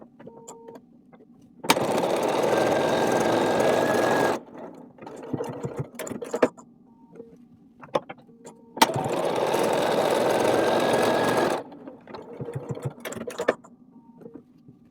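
A sewing machine stitches quarter-inch seams along both sides of a marked line on quilt half-square triangle pieces, running in two sustained bursts of steady whirring with quiet handling and small clicks between them.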